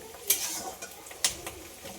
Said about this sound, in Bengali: এবার হয়ে গেছে পেঁয়াজটা ভাজা।